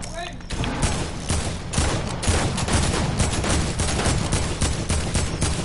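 Rapid, continuous video-game gunfire, like a sustained fusillade of shots, runs loud and dense throughout, with excited voices talking over it.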